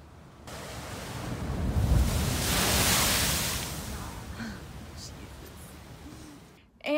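Broadband wash of surf swells and recedes at Faria Beach State Park, a steady roar of waves with wind buffeting the microphone, no voices.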